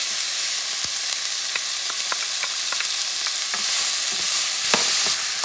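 A wooden spoon stirs venison chili with onions and pepper in a pan. Light taps and scrapes sound over a steady, loud sizzling hiss, with no voices.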